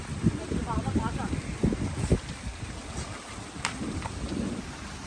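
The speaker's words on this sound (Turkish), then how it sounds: "Çok yağmur yağıyor yani." Heavy rain pours steadily over a garden in Zonguldak during a flooding storm, a constant broadband wash with occasional low rumbles as voices talk over it.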